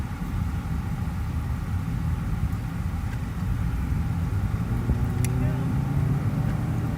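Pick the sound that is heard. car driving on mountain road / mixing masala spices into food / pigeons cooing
car driving on mountain road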